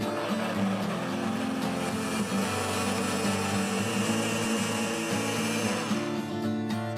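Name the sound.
electric blender blending melon juice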